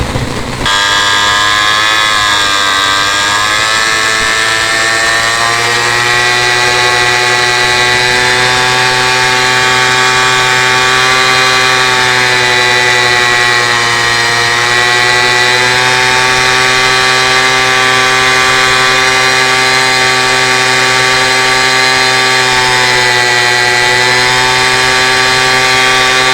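A Poulan Pro chainsaw with a freshly rebuilt carburetor idles steadily and loudly for the whole stretch, a close, constant engine drone with a slight rise and fall in pitch and no talking.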